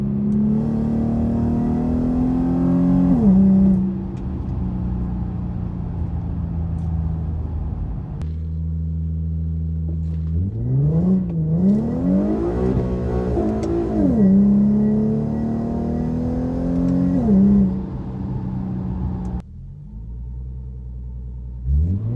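An Infiniti Q50 spinning its Lexani LX20 tires on damp pavement in a burnout, the engine revving up and down in loud, droning surges with a steady low rumble beneath.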